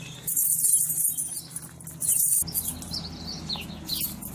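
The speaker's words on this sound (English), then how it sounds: "their very typical call is exactly that. They go kia, kia, kia." Sharp, high bird calls sound in bursts in a New Zealand wildlife enclosure, a short run of repeated kia-kia notes, then quieter chirps and tweets later, fairly close with no talking.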